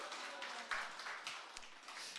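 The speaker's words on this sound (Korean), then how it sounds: "박수 한번 해드릴까요?" Audience applause rolls from a church training gathering, a dense, even patter of many hands clapping at a moderate distance, steady throughout with no talking over it.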